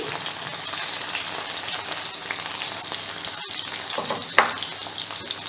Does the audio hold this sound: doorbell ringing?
no